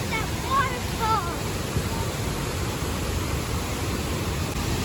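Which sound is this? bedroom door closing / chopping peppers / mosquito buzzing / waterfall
waterfall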